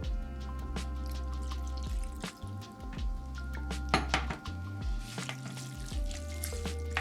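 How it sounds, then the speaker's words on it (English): Pasta water is poured into a pan of gluten-free penne alla vodka, with steady kitchen clatter, clinking cookware and a soft sizzle running throughout. "I'm gonna add a little bit more pasta water"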